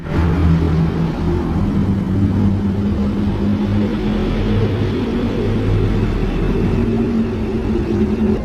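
Earth's sound recorded from space: a steady, dense low rumble with humming drone tones throughout, like distant roaring highway traffic or radio interference, unbroken and fairly loud.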